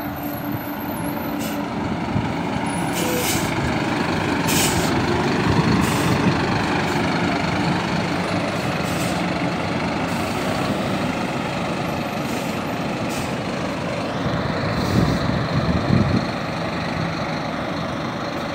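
A heavy Scania K340 intercity bus engine rumbles steadily up close at Brasília's interstate bus station, with sharp hissing bursts of air brakes released at intervals.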